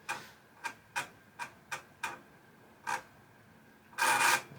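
An Amiga 1000 floppy disk drive booting Amiga DOS 1.3 makes a quiet series of sharp, irregular clicks, then a brief louder grinding burst near the end.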